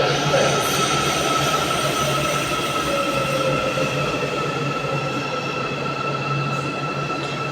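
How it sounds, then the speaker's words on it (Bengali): A metro train rumbles loudly at close range as it slows down, with faint high wheel squeals gradually fading toward a stop. "এই যে ট্রেনটা এখন দাঁড়ালো"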